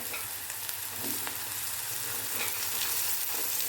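Jackfruit seeds frying with sautéed onions in a pan, a loud, continuous close-up sizzle with faint stirring scrapes and no talking.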